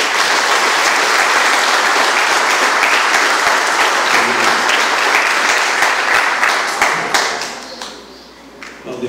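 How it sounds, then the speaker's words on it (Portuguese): A crowd applauds at a collective wedding ceremony, dense sustained clapping with scattered sharp individual claps, loud and close, tapering off near the end before a few last claps. "Mais um aplauso."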